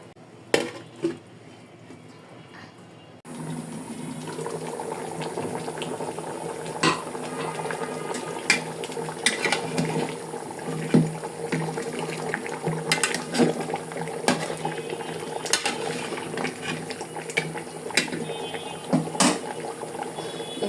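Beef nihari simmers in a home kitchen pot after hours of cooking, a steady close bubbling and gurgling with scattered pops and small knocks, continuous and fairly loud after a quieter opening, with no talking.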